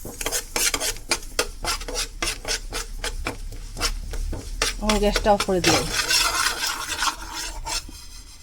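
White sesame seeds are stirred in a hot pan, with a steady rhythmic scraping and rubbing of a utensil against the metal under a light sizzle. A voice speaks briefly partway through.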